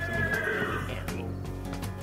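Horse neighing at an international horse plowing competition, a loud close whinny with a falling pitch, followed by lighter background noise and faint hoof clopping.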